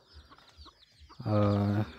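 A hen clucks nearby, a few soft clucks and then a louder drawn-out call, with faint background noise.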